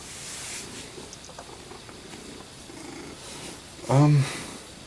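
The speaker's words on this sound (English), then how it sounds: "my cat's over here too" A house cat purrs softly nearby in a quiet room, a low continuous rumble with one brief louder vocal burst near the end.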